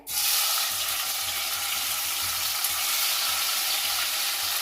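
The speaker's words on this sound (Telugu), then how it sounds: "ఇప్పుడు మనము టమాటా వేసుకోవాలండి" Chopped tomatoes frying in hot oil in a pan for a tomato pickle, a loud steady hiss and crackle that starts abruptly and holds constant throughout.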